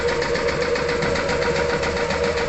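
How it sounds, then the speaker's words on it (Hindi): A Tezze double-cylinder air compressor runs steadily, giving a loud, close, continuous mechanical drone with a fast knocking pulse and no pauses. "डबल सिलेंडर का जो कंप्रेसर होता है वो कुछ ज़्यादा ही हवा बनाता है"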